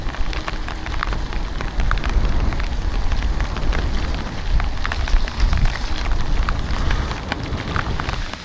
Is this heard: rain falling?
yes